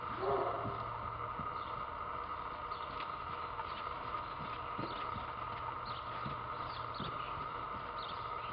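A horse trots in a riding arena, with soft, faint rhythmic hoofbeats running steadily under a quiet, humming background.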